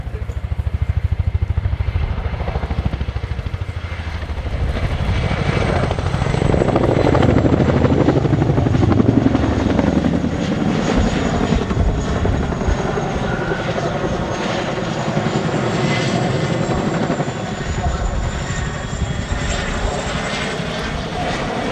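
A Royal Air Force Chinook HC.6A twin-rotor helicopter flies a display at RIAT 2023, its loud, steady rotor thump and turbine whine filling the air continuously with gentle rises and falls as it manoeuvres.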